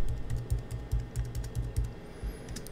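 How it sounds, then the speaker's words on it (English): Rapid keystrokes on a computer keyboard as an IP address is entered into a web browser, a close, steady run of clicky taps with no talking. "if we go into a web browser and type in our switch IP address"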